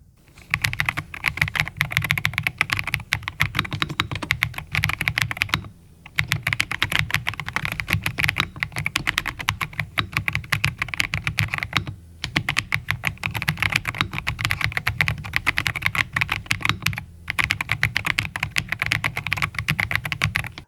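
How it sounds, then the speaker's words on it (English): Continuous, rapid mechanical keyboard typing on a Redragon Starblade K707 Pro, with crisp, clicky keystrokes, loud and close, broken by a few short pauses. "do a typing and sound test on the Starblade K707 Pro from Redragon"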